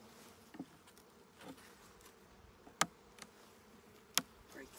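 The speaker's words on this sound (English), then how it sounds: "Bees are always right where I want to put my hive tool." Honey bees buzz around an open hive during a spring inspection, a soft steady drone with a few sharp clicks and knocks from the hive tool, no talking.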